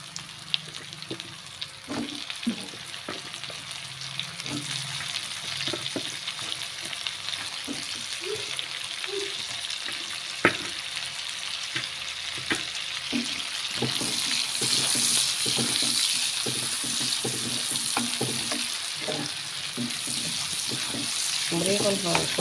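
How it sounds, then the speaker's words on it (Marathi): Mushrooms and garlic frying in a pan give a steady close sizzle throughout, with scattered clicks and scrapes of stirring on top. "बरी करून फ्राय करपा जाय मातशें."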